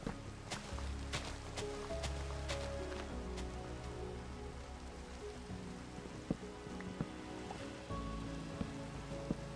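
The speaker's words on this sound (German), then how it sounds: "Mann, warum muss es denn regnen?" Rain falls steadily in Minecraft as a soft, continuous hiss and patter, faint and even throughout, with low game tones underneath.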